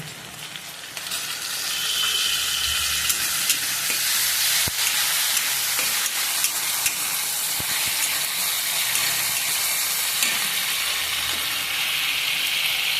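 Ginger garlic paste sizzles loudly in hot oil with softened tomato, building to a steady, close frying hiss with scattered crackles and a few sharp pops, fish head curry in progress.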